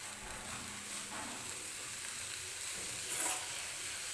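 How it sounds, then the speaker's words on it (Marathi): Safflower leaf greens (karadai bhaji) stirred in a pan with salt, giving a soft, steady sizzle and faint scraping throughout, with no voices. "परत एकदा छान असं मिक्स करून घ्यायचं आहे भाजीला"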